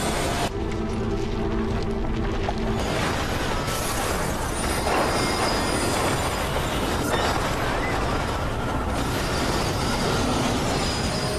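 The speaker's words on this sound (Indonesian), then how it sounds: "ada kereta yang melaju sangat kencang dalam keadaan terbakar dan menabrak sebuah kereta yang sedang terparkir" A burning train in a film speeds along the track and crashes into a parked train: a loud, close, continuous roar and rattle of wheels with squealing metal, building into a heavier, harsher clatter partway through.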